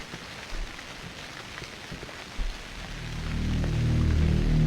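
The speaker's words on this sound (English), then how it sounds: "we come outside once again to see that it started raining" Steady rain in the horror video game Cry of Fear patters on surfaces, growing denser and louder toward the end with a low rumble building underneath.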